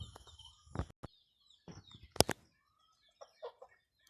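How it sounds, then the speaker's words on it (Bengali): Quiet, scattered clucks and short calls from a rooster and hens in a village, a few at a time with pauses between, heard from a little distance. "এখানে দেখাচ্ছি মোরগ মুরগি"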